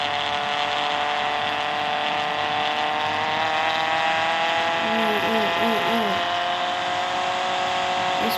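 Car engine in the mobile game Car Parking Multiplayer, a steady synthetic drone holding under a thin high whine throughout, with a short run of rising, warbling revs toward the end and a voice talking over it.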